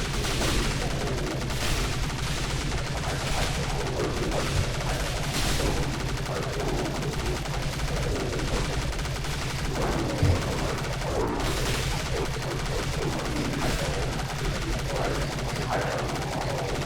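Machine-gun fire rattles out in the zombie shooter Dead Frontier, set in the Deep Wastelands, with loud, nearly continuous bursts and scattered heavier booms running throughout, no voices over it.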